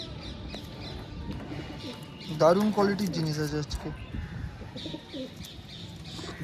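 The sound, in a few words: pigeons cooing in a cage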